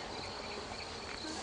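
Honeybees buzzing around a queen cage as they are dropped into a hive box, a dense, continuous close-up hum with no voices.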